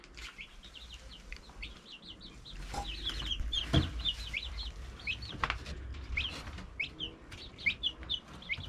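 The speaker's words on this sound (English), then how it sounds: "let me show you these 4 little turkeys" Four young black-and-white turkeys chirp in quick, high repeated peeps, calling over one another at close range with faint rustling beneath.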